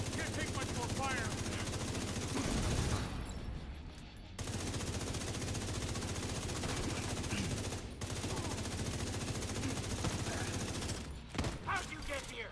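Sustained automatic gunfire fills a firefight in the shooter video game The Division 2, dense rattling bursts running almost continuously with brief gaps, loud and close, with a player talking over it.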